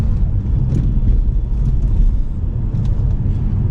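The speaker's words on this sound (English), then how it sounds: "the transmission shifts so smooth in this car" A Lincoln LS V8 cruises with a continuous low engine and road rumble heard from inside the cabin, steady and moderate, with faint clicks and no talking.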